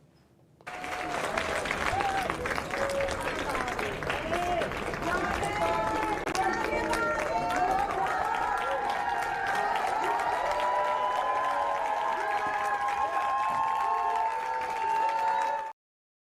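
A crowd at the end of a Senate hearing breaks into sustained, loud applause and cheering that keeps going without a break for about fifteen seconds.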